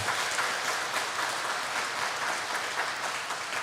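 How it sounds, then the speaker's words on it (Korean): A church congregation applauds during a Sunday service, a sustained, even wash of many hands clapping in a large room, with no voices over it. "여러분 박수 한번 보내주시기를 바랍니다."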